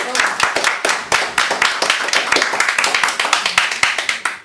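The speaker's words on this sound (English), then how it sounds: "So more applause, please, for Andy" An audience claps after a talk on motorcycling in Scotland, a dense burst of sharp individual hand claps at close range, steady and lively throughout.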